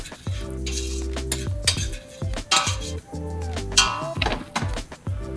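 Utensil stirring mushrooms and scallops in a pan, with steady sizzling under repeated metallic scrapes and clinks against the pan over several seconds, loud and close.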